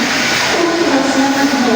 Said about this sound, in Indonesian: kereta api Pandanwangi sudah mulai diberangkatkan dari stasiun Ketapang Banyuwangi